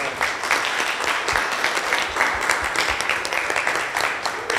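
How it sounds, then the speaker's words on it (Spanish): Applause from an audience at a Spanish-language community cultural broadcast, a dense steady patter of many hands clapping throughout, moderately loud and continuous with no clear individual claps standing out. "un aplauso"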